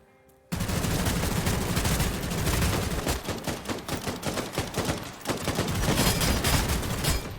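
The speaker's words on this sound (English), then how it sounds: "Tommy gun." A Tommy gun in the vampire battle royale Bloodhunt fires long, dense automatic bursts that start abruptly and hammer on loudly for several seconds, with brief gaps between them.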